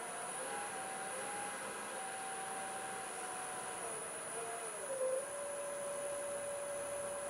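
A wood lathe spins an end-grain apple bowl blank at about 800 RPM, producing a faint, steady motor hum with a thin whine that shifts slightly in pitch partway through, with no talk.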